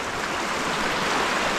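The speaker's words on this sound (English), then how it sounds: "What a cool stretch of stream this is right here. Just a little creek. It's running pretty hot right now" A small creek running high after rain, its steady broadband rush of flowing water close and loud throughout with no voices.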